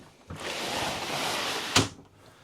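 A solid interior door in a large caravan slides along, then shuts with a sharp close-up thump that ends the movement.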